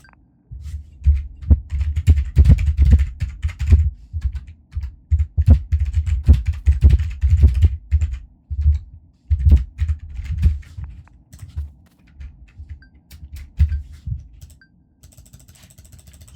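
Fingers tap rapidly on a computer keyboard in uneven bursts of dull, close clicks and thumps, with brief pauses and a sparser patter toward the end, with no one speaking.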